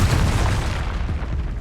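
A Confringo blasting spell explodes in Hogwarts Legacy combat, a loud, dense low boom that rumbles continuously through the whole moment, with no voices over it.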